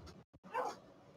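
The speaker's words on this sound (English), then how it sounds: "My dog is having a cow." A dog in a home near a shed gives a few quick, close barks and yips in under two seconds, loud and alone.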